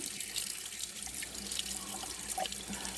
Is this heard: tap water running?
yes